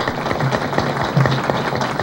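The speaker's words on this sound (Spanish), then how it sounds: "Por favor, recibamos con un fuerte aplauso a la doctora Paulette Dieterlin," An audience at a book presentation gives a short burst of applause, a dense patter of clapping hands at moderate volume in an indoor hall.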